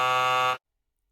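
A timer buzzer sounds once, a loud, harsh electronic tone held for about half a second before cutting off abruptly into silence.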